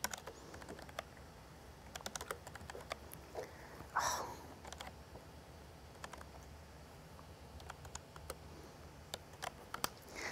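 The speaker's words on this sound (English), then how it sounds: "I love this tiny mouse, this tiny keyboard, but sometimes typing could be tricky." Quick, uneven clicking of keys on a tiny keyboard paired with a Raspberry Pi setup, soft and close, with scattered taps and brief pauses between bursts, and no talking.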